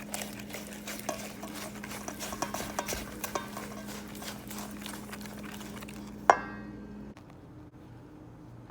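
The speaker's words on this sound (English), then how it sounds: "now we're going to add in our flour. We're going to whisk that in, get that together, combined" A whisk stirring flour into beaten eggs and sugar in a bowl, giving a steady, close, soft scraping and tapping rhythm that stops with one sharp clink of the whisk against the rim, then near silence.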